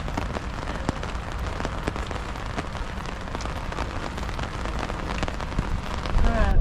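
Rain falling steadily and pattering on a surface such as an umbrella, a dense continuous patter with scattered sharper drops, close and moderately loud.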